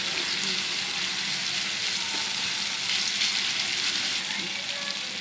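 Capsicum frying in hot oil in a pan for egg burji, giving a loud, steady, continuous sizzle throughout with no talk.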